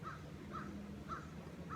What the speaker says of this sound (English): you hear the crow?